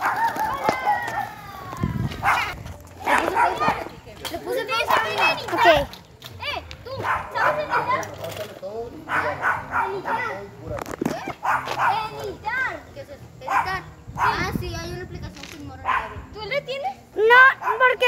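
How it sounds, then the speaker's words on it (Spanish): A dog barks in repeated sharp bursts during an outdoor bicycle ride, with roosters crowing and hens clucking nearby, all under steady overlapping talk from riders. "Hay un perro ahí."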